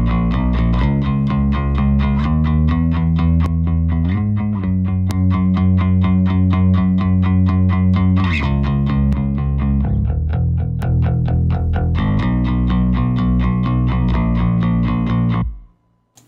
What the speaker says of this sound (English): we're going to hit the distortion now